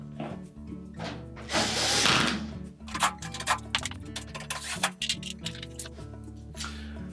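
A screwdriver tightens the screws on the terminal block of a Whirlpool electric range. The ticking and ratcheting clicks come in quick irregular runs, with a brief louder scrape near the start, and no one speaks.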